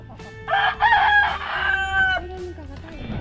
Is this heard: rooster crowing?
yes